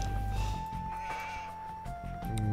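Sheep bleating in the video game Age of Empires 2: a short bleat over steady game music with a sustained tone, followed by a second brief animal call near the end.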